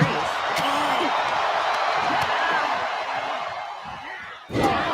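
A wrestling arena crowd at a women's wrestling match cheers and roars continuously, with whoops and shouts rising over a dense roar before a brief dip and a fresh burst at the end.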